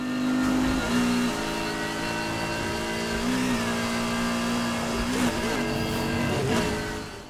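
A BMW M4 fitted with straight cut gears roars steadily in a Need for Speed Heat race, its engine note holding loud and close with a couple of brief dips and shifts as it threads through traffic.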